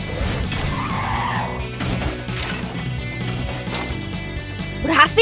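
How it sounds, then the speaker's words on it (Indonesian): An emergency hammer smashing a bus window in an animated dinosaur rescue cartoon, with several sharp crashing hits and glass breaking at the end, set amid busy clattering effects and some voice. "pakai palu untuk memecahkan kaca"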